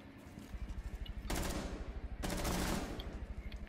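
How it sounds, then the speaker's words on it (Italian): Teammates fire rapid automatic bursts in Rainbow Six, two sustained volleys of quick, evenly spaced gunshots that sound somewhat distant and muffled, with no talking. "Sono i nostri compagni che sparano"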